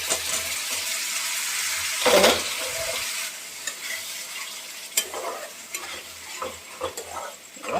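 Onion, garlic and cumin sizzle steadily in a hot pan while a spoon stirs and scrapes through them, close and continuous, with a louder clatter of stirring partway through.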